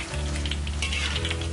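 Tempeh mendoan deep-frying in hot oil, a steady close crackling sizzle with a low hum underneath, no voices.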